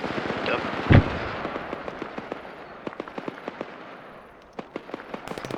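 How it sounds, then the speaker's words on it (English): Mortar shells explode again and again in a military video game, with one heavy boom early on and then a run of sharp blasts and cracks, loud and close, over a steady rumbling background. "Mortars inbound again."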